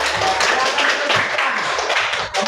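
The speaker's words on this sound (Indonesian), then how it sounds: "Iya, tepuk tangan dulu." A classroom group claps hands together at a singing lesson, a dense patter of many hands close by that carries steadily for a couple of seconds with faint voices mixed in.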